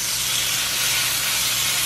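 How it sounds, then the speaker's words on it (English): Pork pieces pan-frying for spicy ramen, giving a loud, steady close sizzle with a bright crackling hiss that holds evenly throughout, with no talk. "Oh, listen to that sizzle."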